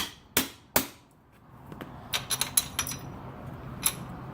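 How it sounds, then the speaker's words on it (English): A rubber mallet strikes a motorcycle's rear sprocket during a sprocket swap on a 2017 Ice Bear Little Monster. Two sharp, loud knocks are followed by a run of lighter, scattered taps and clinks against a quiet workshop background. "When in doubt, hammer out. Notice I'm using rubber, not metal."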